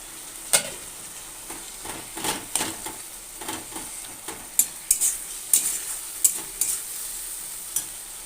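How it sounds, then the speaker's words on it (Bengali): Chopped tomatoes and spices go into a hot frying pan with oil, giving a soft sizzle under scattered spoon scrapes and clinks, up close and unaccompanied by speech. "এবার দিয়ে দেবো টমেটো কুচানো"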